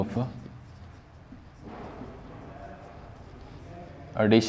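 Marker or chalk scratches across a board during a chemistry lesson, in short strokes between pauses, with someone talking over it.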